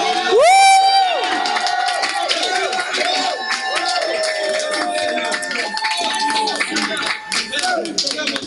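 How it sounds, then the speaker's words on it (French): A church congregation shouts with joy during a prayer service, many voices whooping and crying out with rising calls and some clapping, loud and close, with a voice talking over the crowd. "Tu peux pousser des cris de joie."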